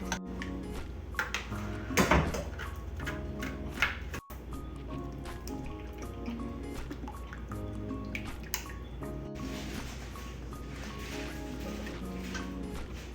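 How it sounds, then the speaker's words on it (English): Hot apple cider drips and trickles through a fine mesh wire strainer while a spoon presses the solids, a close, steady run of wet drops and soft squishes with occasional clinks and no talking. "let's strain our apple cider through a fine mesh wire strainer here"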